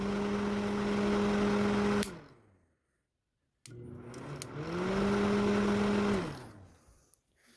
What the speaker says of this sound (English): now the microwave will operate